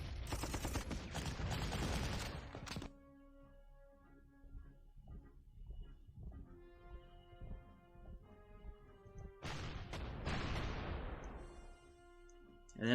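88 gun firing in the World War II strategy game Panzer Corps: dense bursts of loud booming shots open the stretch, a quieter musical lull follows, then another heavy volley of gunfire and blasts near the end.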